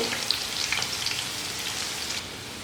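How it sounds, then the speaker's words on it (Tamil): Masala-coated chicken pieces fry in oil over a medium flame, giving a dense, even, rain-like sizzle with tiny pops, close and constant throughout. "மீடியம் ஃப்ளேம்லேயே வச்சு குக் பண்ணோம்னா மேலேயும் கலர் வந்து கொஞ்சம் லேட்டாக வரும்"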